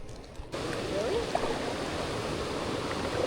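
Whitewater on the Wolf River in summer, a steady broadband rush of flowing river water that starts abruptly and stays loud and continuous, with a few faint voice-like tones briefly audible over it.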